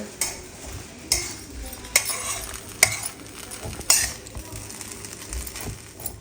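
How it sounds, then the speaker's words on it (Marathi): Sabudana khichdi is stirred in an iron wok, with a spoon scraping and knocking against the metal in about five sharp strokes over a soft continuous sizzle. "चला आता साबुदाण्याची खिचडी बनवून घेतो"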